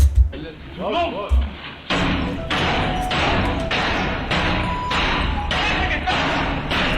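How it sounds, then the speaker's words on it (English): Heavy, repeated blows of a sledgehammer beating on a door, a steady series of loud slams and thuds at close range, preceded by a few scattered thumps and brief voices. "this guy was beating on this door with a sledgehammer"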